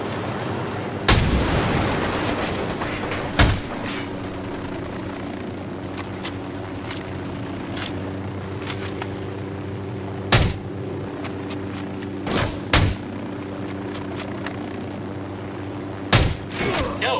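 Gunfire in the Ghost Recon Wildlands video game, sharp isolated shots cracking at irregular intervals over a steady low mechanical drone, likely a helicopter hovering throughout.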